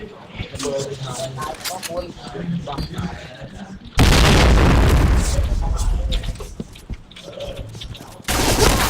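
A loud, booming in-game explosion in the shooter Point Blank, a sudden broadband blast that sustains with rumbling debris and fades, then another burst near the end, following excited talk among players.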